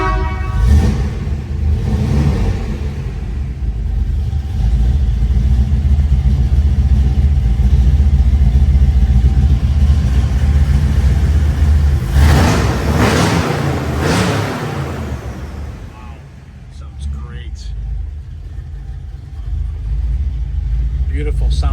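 A 1957 Chevrolet show car's engine rumbles heavily and steadily, rising into louder revs midway before settling back, with a person talking over it.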